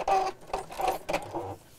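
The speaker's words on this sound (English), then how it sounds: "So I'm just sewing that to the top of the bag just to, oh, wrong one, hold it in place like so." A sewing machine stitching a box cushion cover, several short bursts of close mechanical whirring with brief pauses between them.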